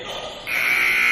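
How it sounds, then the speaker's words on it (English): A basketball game buzzer ends the first half of a men's college game, UDC versus Nyack. It sounds as a loud, steady electronic tone that starts partway through and holds to the end over crowd noise. "buzzer sounds before the shot"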